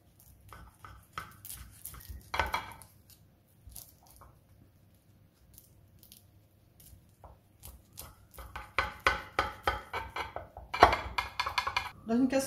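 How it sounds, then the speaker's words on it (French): A knife cuts walnut baklava into pieces, giving sparse crunchy slices and taps on a tray that build into a busier run of clinks and crisp cuts, with a voice speaking quietly at times. "je vais les découper d'un tronçon de 4-5 cm à peu près."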